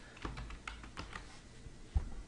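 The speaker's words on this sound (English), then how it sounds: "we'll type something in" Soft, close keystrokes tap out on a computer keyboard in a loose irregular rhythm, muffled under a steady background hiss with one sharper thump near the end.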